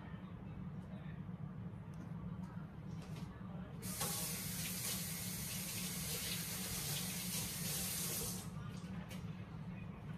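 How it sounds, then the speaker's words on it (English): Kitchen tap water rinses seeds off cut bell peppers: after a few seconds of quiet room sound, a loud, steady spray of running water starts and holds for about four seconds before shutting off. "Now let me rinse these off to get the seeds off of them"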